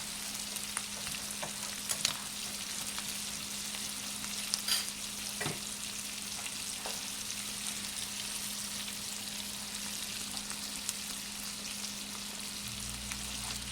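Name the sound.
frozen corn frying in a pan over high heat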